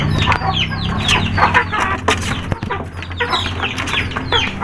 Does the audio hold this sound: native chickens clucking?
yes